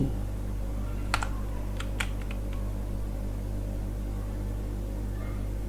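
Keystrokes on a computer keyboard while writing web page code, a short burst of sharp clicks early on and a few scattered taps after, over a steady low hum with no talking.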